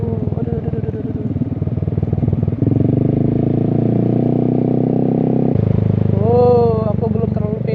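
A motorcycle engine drones steadily at close range on a ride to Seulimeum, Indonesia, with a person talking over the running motor.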